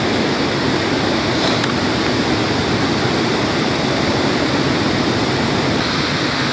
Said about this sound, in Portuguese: Enquanto a Madalena foi tomar um banho ali, na cachoeira